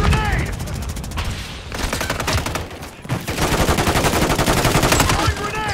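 Call of Duty Modern Warfare 3 multiplayer gunfire: loud, continuous automatic bursts of rapid shots with a short lull in the middle, then more sustained firing, with faint radio chatter mixed in.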